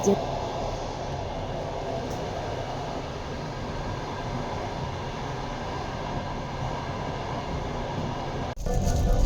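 Steady rumbling clatter of a moving train heard from inside the last carriage, continuous and fairly loud throughout, with a brief dip near the end.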